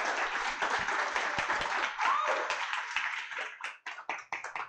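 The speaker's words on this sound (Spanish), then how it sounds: "Démosle un aplauso a Rolando, por favor." Audience at a programmers' meetup applauding after a talk, a sustained burst of clapping that thins into a few scattered claps near the end.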